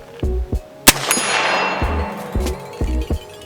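A single sharp gunshot from a Henry .45 Big Boy All Weather lever-action rifle cracks once near the middle, with a decaying echo tail, between dull mechanical clunks of handling.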